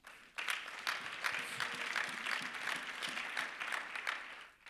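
A church congregation at a pastors and leaders conference service claps steadily for several seconds, a dense wash of applause that fades out at the end.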